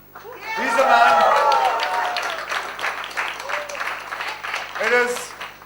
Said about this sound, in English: I think this guy deserves another round of applause